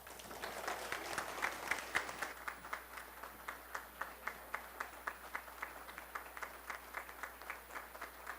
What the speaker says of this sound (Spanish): Ese aplauso está muy tímido